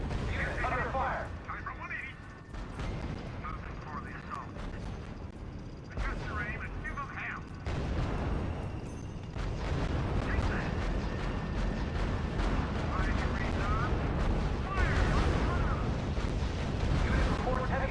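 Sustained heavy gunfire and artillery blasts in the strategy video game R.U.S.E, with dense overlapping bursts and booms rolling on for many seconds, loud and continuous, occasionally under a voiced radio report.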